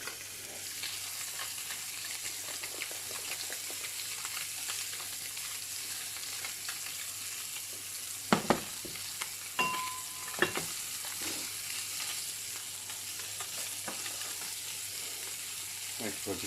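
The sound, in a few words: fresh caught cod fillet frying skin-side in a pan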